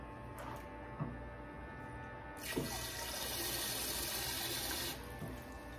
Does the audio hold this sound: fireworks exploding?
no